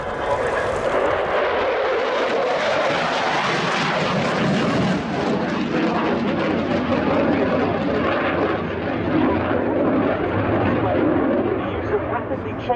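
A Saab JAS-39C Gripen of the Swedish Air Force makes a fast, low fly-through at an RAF Fairford air display, its loud, continuous jet roar swelling and sweeping past, with commentary in the background.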